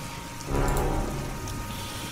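Steady rain from the video game Heavy Rain, a dense broadband hiss of drops on a surface that swells after a brief quieter start and holds constant to the end, with no voices.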